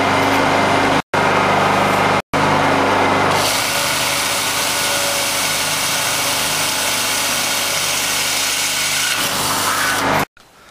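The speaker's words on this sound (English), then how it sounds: "we're gonna drill a hole right here" A power drill bores a 12 mm hole into a fuel tank being made as an auxiliary tank for a Honda EU2000i generator, running in a loud, steady whine broken by a few short pauses near the start and end.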